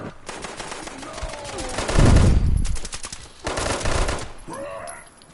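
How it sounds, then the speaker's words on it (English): Weapon fire in the Fallout 76 video game comes as loud rapid bursts of shots, with a short break between them, mixed with game sounds and faint voice-like tones. "even when they fire at them, they don't really get detected as much as I do with this wide open gun."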